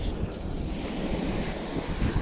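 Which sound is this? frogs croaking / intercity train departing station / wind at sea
wind at sea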